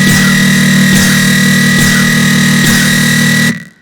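A harsh, heavily distorted dubstep synth bass drones loud and continuous with a gritty, broken-sounding tone and a faint recurring pulse, then cuts off abruptly near the end.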